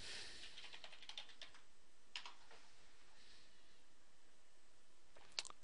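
Quick, light keystrokes on a computer keyboard tap out a short search, clustered in bursts against a faint background hiss, with one sharper key press near the end.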